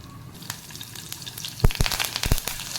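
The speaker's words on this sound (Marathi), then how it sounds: "आपण फोडणी करणार आहोत तेल घेतलेलं आहे त्याच्यामध्ये जिरे मोहरी हिंग" Cumin, mustard seeds, asafoetida, chopped green chilli and curry leaves sizzle in hot oil for a tempering. The frying hiss is close and steady, with a few sharp crackles and pops near the end.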